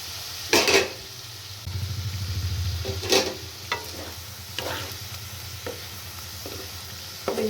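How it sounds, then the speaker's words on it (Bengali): Semolina banana fritters frying in a pan of oil, a soft steady sizzle under sharp intermittent clinks and scrapes of a spatula stirring and lifting them, close by, no voices. "তেলটা আমার ভাজা হয়ে গেছে"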